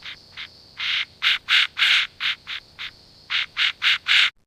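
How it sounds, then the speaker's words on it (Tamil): An Asian koel calls repeatedly from a mango tree in the early morning, a series of loud, rising whistled notes in quick succession, clear and alone. "அதிகாலை வேளையில் மாமரத்தில் ஆசிய குயில் கூவுகிறது"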